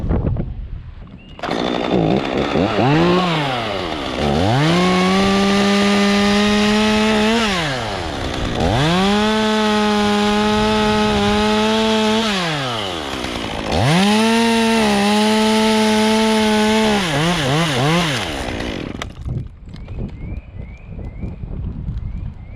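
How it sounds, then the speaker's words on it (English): A chainsaw runs loud and close cutting a white oak branch, its engine revving up and down in three long surges, then idling back down before falling quiet. "I don't want to be holding a running chainsaw when that happens"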